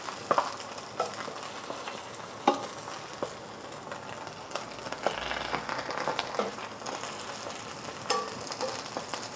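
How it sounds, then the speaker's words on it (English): Chicken pieces sear in a non-stick frying pan, a steady sizzle crackling throughout with a few sharper pops and clicks, fairly close and with no voices. "Don't touch it for 2 to 3 minutes and just let it sear."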